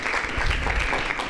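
An audience claps at a university debate event, a dense, steady patter of hands held at an even level throughout, with no talk on top.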